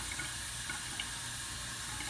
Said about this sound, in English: I'm just gonna wet the bristles here